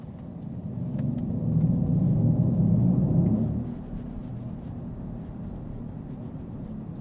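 A 2024 Mercedes-AMG EQE 53 SUV's synthetic drive sound in comfort mode on the powerful setting, a low droning rumble that swells and holds for a few seconds, then eases back to a steady softer hum, with no talking.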